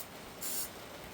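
Short hiss of a spray paint can applying rust protection to a van part, a single burst of about a quarter second standing out over a faint steady background.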